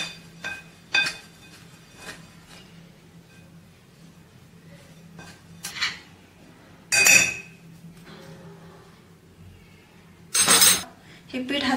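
A spoon mixes flour with hot oil in a bowl, sparse metallic clinks and scrapes against the bowl separated by quiet gaps over a faint low hum.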